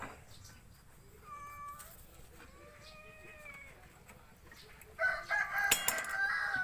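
A cat gives two soft meows, the second drawn out, before a louder rooster-like crow and clatter break in.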